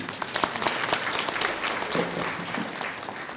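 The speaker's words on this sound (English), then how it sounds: "Please give a round of applause to them." Graduation ceremony audience applauding, a dense, steady wash of many hands clapping from a crowd throughout, with no talk over it.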